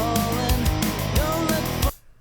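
Programmed closed hi-hat pattern using edge and tip samples, steady ticking hits over a dense full-band backing for a pop punk drum part, loud and continuous before stopping abruptly.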